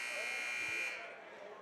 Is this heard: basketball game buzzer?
yes